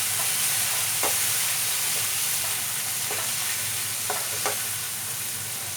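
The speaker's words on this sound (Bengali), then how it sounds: "আর দেবো ধনে গুঁড়ো হাফ চামচ। এটাকে একটু মিক্সিং করে" Mutton with turmeric and coriander powder stirred in a frying pan for Bengali-style kosha mangsho: steady close sizzling of oil throughout, with a few scraping spoon strokes.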